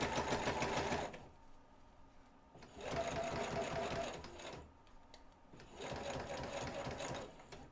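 A sewing machine stitches a centered zipper tape with contrasting thread in three loud, steady bursts, separated by short pauses for turning the fabric.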